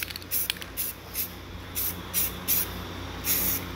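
Short bursts of aerosol spray paint laying a thin tack coat on a homemade railroad crossing light part, about nine quick close hisses with brief pauses between.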